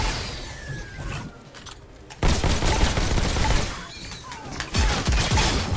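Pistol gunfire in the VR shooter game Robo Recall, rapid bursts of loud synthetic shots with metallic impacts and clatter over a dense game soundscape, no voices.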